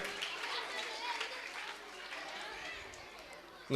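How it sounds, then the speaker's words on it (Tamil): An audience at a school annual day at a municipal middle school in Vellore claps in a sustained, fairly soft wave of applause that fades slightly before a short louder thump at the end. "பலத்த கைத்தட்டல் தருமாறு அன்போடு கேட்டுக்கொள்கின்றேன்"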